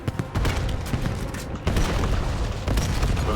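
Cluster grenade blasts and gunfire from the Black Ops 7 beta multiplayer match fill the mix with dense, continuous booming and rattling shots, loud and sustained, with brief dips near the middle.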